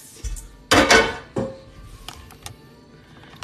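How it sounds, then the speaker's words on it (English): Cooking pans being taken out and handled in a home kitchen before searing salmon: a few sharp metallic clanks and knocks, one loud clatter followed by a smaller bang, then light taps, close and alone. "I'm just getting my pans."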